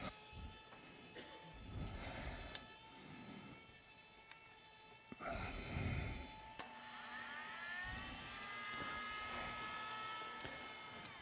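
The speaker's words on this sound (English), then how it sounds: "Between the barbecue motor and the cutter." A Dan Henry ornamental lathe cutter driven by a barbecue motor whines steadily at high speed, with tonal motor hum, shifting pitch and a few louder bursts as the cutter engages the work, close and continuous.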